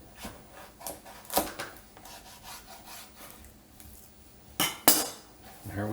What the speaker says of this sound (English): Butternut's a little bit easier to cut down through.